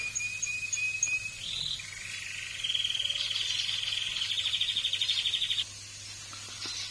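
Ring-necked parakeets and other cage birds sit by a steam humidifier in an aviary, giving a steady run of close, high chirps and rapid trilling calls over a low constant hum.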